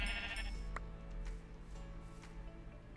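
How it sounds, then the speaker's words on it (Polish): Sheep in Minecraft give a short bleat near the start, then fainter bleats follow over a low background hum. The animals sound close and there is no talk. "Niby blisko owce są."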